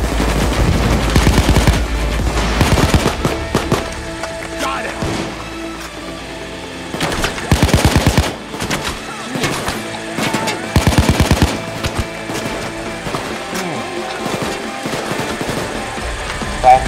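Bursts of rapid automatic gunfire during a Payday 2 bank heist, loud and close, coming in several rattling volleys separated by quieter stretches, with a voice talking at times.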